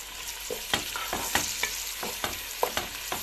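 Chopped onions sizzle steadily in hot oil while a spoon stirs them in the pan with repeated scraping strokes, close and fairly loud.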